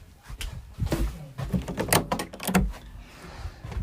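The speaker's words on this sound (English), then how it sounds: "it's the sound of my front door" A front door opening and closing, heard as a run of close clunks, a latch rattle and a final thump with some scraping between them.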